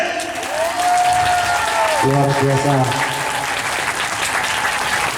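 An audience at a night-market closing comedy show in Kisaran keeps up loud, sustained applause while someone speaks briefly over it through a microphone.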